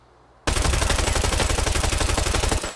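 An automatic weapon fires in the Arena Breakout shooter game: after a brief quiet start, one loud, close, unbroken burst of rapid shots runs steadily to the end without talk.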